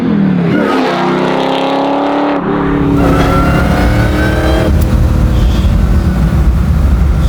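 A supercharged Chevy Camaro pro-touring car accelerates hard, its engine note climbing through rising revs in loud, close sweeps with a roaring, sustained exhaust and no voices.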